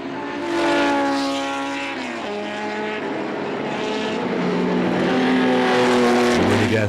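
Porsche 935 race cars at full throttle during the Spa-Classic historic race, loud engines roaring past with rising and falling pitch as several cars sweep by in close succession.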